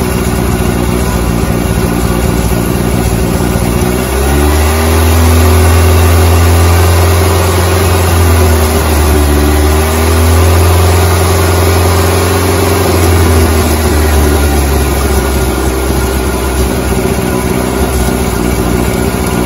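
A loud, close engine of a 1988 Volkswagen Polo MK2 runs steadily, rising into a stronger rev partway through as carb spray hits an air leak under the air filter housing, holding there before easing off, with no voices.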